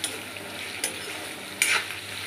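Chicken pieces fry in hot oil with a soft, continuous sizzle, punctuated by two sharp spatula scrapes or stirring clatters against the pan, with no talking.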